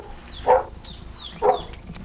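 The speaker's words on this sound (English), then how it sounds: "Yes, that is a dog you hear barking." A dog barks twice, about a second apart, at moderate distance in a quiet outdoor setting in South Florida, each bark short and sharp.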